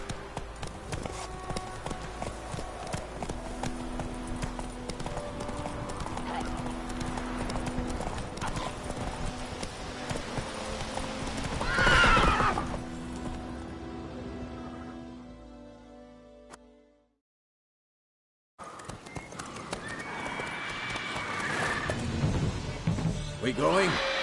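Roach the horse in The Witcher 3 gallops with steady rapid hoofbeats and a whinny midway, then the hoofbeats fade into a brief silence before resuming with voices nearby.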